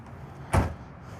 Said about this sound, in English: you'll notice when I close these doors,